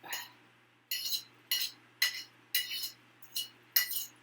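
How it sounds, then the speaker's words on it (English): Repeated scraping and clinking of a utensil against a dish while plating tilapia over linguine, about eight short strokes in a steady rhythm, close by over a faint hum. "Sorry about the scraping noise."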